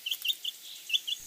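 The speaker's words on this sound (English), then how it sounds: "chicks," Chicks chirp in a quick run of high, thin peeps, about eight short calls in close succession, clear and alone.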